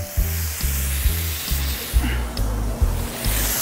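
Four pieces of fish fry in olive oil with lemon on a Camp Chef griddle outdoors, giving a steady close sizzle with a rhythmic, pulsing crackle that repeats about twice per second.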